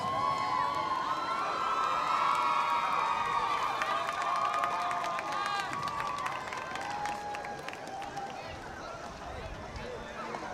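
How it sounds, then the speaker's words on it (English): A student section at a high school football game, Weslaco East Wildcats, cheers and shouts as a loud, sustained crowd roar with scattered claps, a voice speaking over it. "There's the student body. Excited, cheering on the Wildcats."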